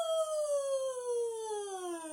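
Children in a KS2 singing warm-up let out a long voiced yawn, a steady tone that slides slowly downward in pitch for about two seconds, close and clear with no talk.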